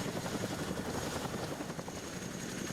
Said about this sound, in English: Other helicopters spool up and move out.